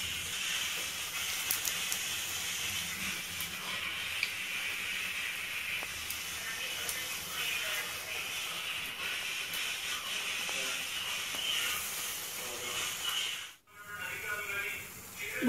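Bondas made with leafy vegetables deep-fry in hot oil over a medium flame, giving a steady, dense sizzling hiss that runs throughout with faint talk beneath it and one brief dropout near the end.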